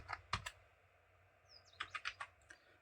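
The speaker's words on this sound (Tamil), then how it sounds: "நான் அப்படியே ஃபுல்லாக டைப் பண்ணிக்கிறேன்." Quick clicks of a computer keyboard as a ration shop code number is typed, one short burst of keystrokes followed by a faster run, quiet and close, with a faint chirp in between.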